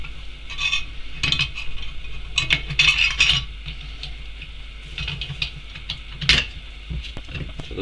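Small metallic clicks and ticks sound close up as a screw is worked out of a 12-volt car alternator housing during a home rebuild, in a quiet garage with faint background hum.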